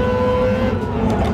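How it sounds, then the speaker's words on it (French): Race car engine roaring loudly and continuously in Gran Turismo 7, a dense steady drone with strong low rumble, filling the space at close range. "on fait pas trop attention vraiment au son des moteurs des voitures dans Gran Turismo"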